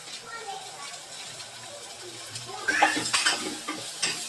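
Mutton curry spices, powdered masala and pepper, are stirred and sautéed in a pan; a spoon scrapes and clinks against the metal in bursts, loudest toward the end, over a soft frying hiss with a voice speaking in the background.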